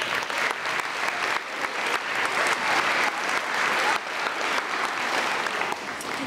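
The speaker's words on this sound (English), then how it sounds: "So give yourself a round of applause." Sustained applause from an audience at an elementary school testing awards ceremony, steady dense clapping filling the room throughout with a few brief dips in intensity.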